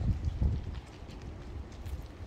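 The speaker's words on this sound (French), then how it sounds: "j'entends le vent qui souffle là-bas quoi" Foehn storm wind sweeping across a hillside, a faint, distant, gusty rush with low rumbling swells and no voices.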